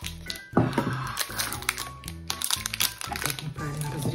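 Crinkly plastic sweets packaging being cut with scissors and crumpled up close, with sharp crackling bursts and rustles throughout.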